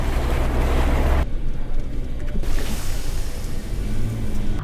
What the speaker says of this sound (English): Here's your first water crossing.